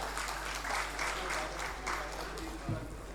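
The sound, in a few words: audience applause welcoming a minister on stage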